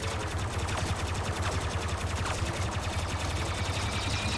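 Rapid blaster fire from Phasma in Star Wars Battlefront 2, a steady stream of loud repeated shots running the whole stretch over dense game noise and low rumble.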